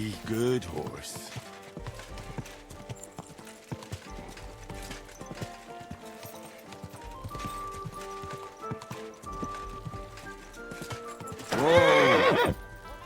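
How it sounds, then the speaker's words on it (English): Horse in the video game Kingdom Come Deliverance II: steady clip-clop of hooves in a galloping rhythm, then a loud, close neigh near the end, with background game audio throughout. "Easy, good horse."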